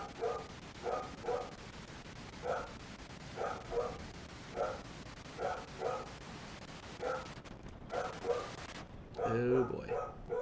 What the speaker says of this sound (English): My dog is being very noisy in the other room.